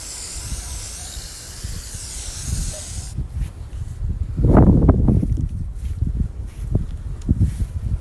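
A spray can mists paint onto a cleaned bar cart, starting with a steady hiss that cuts off, then gives way to close rustling and handling noises with a few short bursts.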